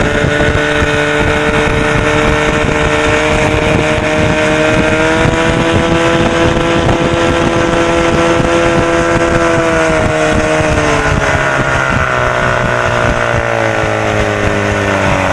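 Boat driven by a 1976 Evinrude 25 hp outboard motor at speed, a loud, continuous droning engine with wind buffeting the microphone, pitch steady then shifting slightly near the end.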